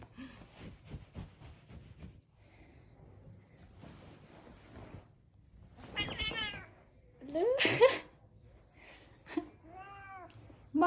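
A 16-year-old cat gives several drawn-out meows during a hide-and-seek game at home, clear and close, following a stretch of a person talking softly.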